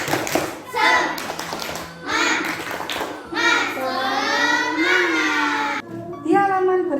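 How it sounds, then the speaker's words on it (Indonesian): A class of schoolchildren performs the rhythmic 'tepuk semangat' clap, sharp hand claps and taps in short bursts mixed with their chanting voices, loud and close. "kita tepuk semangat dulu, tepuk semangat."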